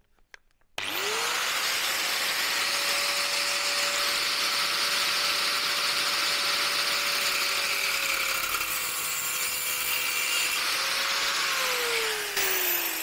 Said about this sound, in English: just grind it down, get it parallel